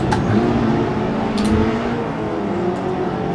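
Race car engine in the Assetto Corsa driving game, held at a steady, loud drone with a low tonal hum as the car climbs uphill in gear, with no speech.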